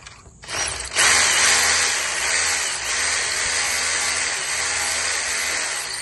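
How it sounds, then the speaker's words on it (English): A power drill reams out a hole in brick for a nylon anchor, starting with a short burst and then grinding loudly and steadily, close and with no talk. "Let me ream the hole out a little more."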